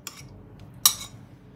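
Utensils clink against a dish while a stuffed squid salad is tossed with pounded dipping sauce and stir-fried pork, giving two brief scraping clinks, the second louder and longer, near and quiet with no talk.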